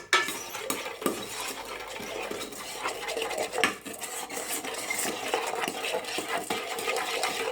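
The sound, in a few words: stirring corn kernels in hot oil in a rice cooker pot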